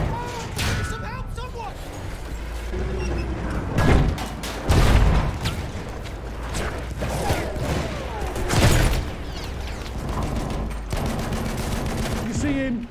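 Machine gun fire in a Battlefield 1 match on the Amiens map rattles in dense bursts, with heavier booms and explosions cutting through, all loud and busy. Players talk over the battle.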